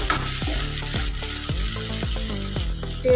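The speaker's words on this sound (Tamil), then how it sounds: "தக்காளி மசீரிட்டு வதக்கிக்கலாங்க." Chopped tomatoes sautéing with onion and garlic in a pan for a sundakkai kulambu, a loud steady sizzle broken by regular scraping stirs roughly every half second.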